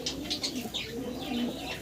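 Pigeons coo repeatedly at a pet pigeon seller's loft, soft rolling calls layered with a few higher chirps, close and steady throughout.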